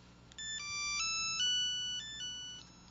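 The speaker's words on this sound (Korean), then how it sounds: "또다시 어머니께 전화가 걸려왔습니다" A mobile phone ringtone for an incoming call plays a bright electronic melody of stepped beeping tones. It sounds clear and moderately loud against a quiet background for a few seconds.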